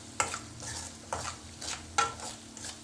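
Chili powder and salt being sautéed over a low flame for a cabbage sabzi, with three soft scraping strokes of a spatula across the pan over a faint background sizzle.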